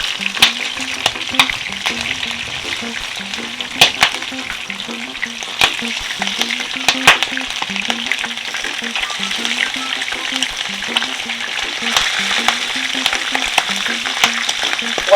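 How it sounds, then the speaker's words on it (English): Shrimp fry in oil with garlic and pepper, a strong, steady close sizzle with occasional sharp pops and stirring clicks throughout, no voices. "So I'm going to go in and add my shrimp now."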